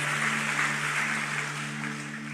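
A church congregation applauds together, a dense, sustained wash of clapping that stays fairly even and fades slightly toward the end, with a faint steady tone underneath.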